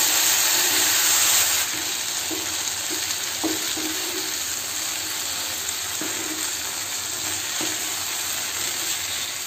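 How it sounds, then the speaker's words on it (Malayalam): Pork sizzles and hisses steadily in a hot pan for a Kerala style pork fry. The frying is continuous and close, with a few soft stirring knocks and no talking. "നല്ലതുപോലെ നമുക്ക് ഫ്രൈ ചെയ്തെടുക്കാം."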